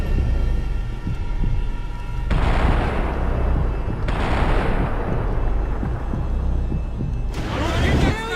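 Gunfire and explosions in the video game Max Payne 3, a dense continuous barrage of booming shots with roaring blast bursts at intervals, loud and close.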